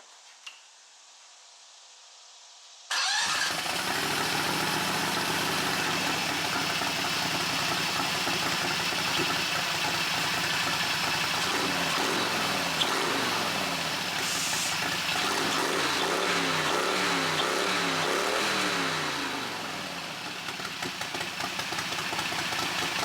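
A mud mower engine with custom headers starts after a silent moment and runs loud and rough, a continuous raw lumpy idle with uneven pulsing revs before easing slightly near the end.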